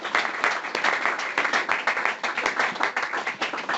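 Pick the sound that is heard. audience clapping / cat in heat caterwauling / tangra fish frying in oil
audience clapping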